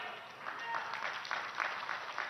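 Audience applause during a political speech in Odisha, a steady, fairly faint wash of many hands clapping from a distance, with a few slightly louder swells.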